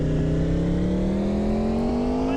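A car engine in a driving video game revs steadily with a slowly climbing pitch while the car drifts, loud and continuous with no talk.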